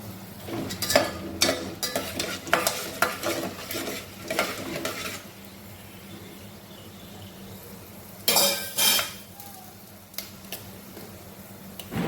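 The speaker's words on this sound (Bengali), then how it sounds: "সর্ষে তেল দিয়ে দিয়েছি ডেকচিতে খানিকটা, আর গোটা গরম মশলা ফোড়নে দিয়ে দেবো।" Whole garam masala spices fry in mustard oil in a small pot, with a steady sizzle under bursts of metal stirring and scraping against the pot, some scrapes loud and close.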